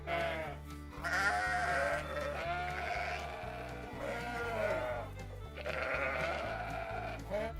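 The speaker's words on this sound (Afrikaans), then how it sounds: "Hierdie is skape." Sheep on a farm bleat in several drawn-out, wavering calls, close and clear over a steady background tune, with no talking.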